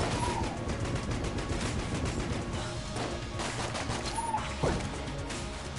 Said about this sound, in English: There's an awful lot of explosion there, but still some bullets came out of it